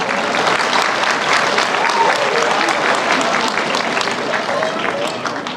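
Steady applause from a graduation ceremony audience fills the hall, a dense sustained patter of many hands clapping at moderate distance that tapers slightly at the end.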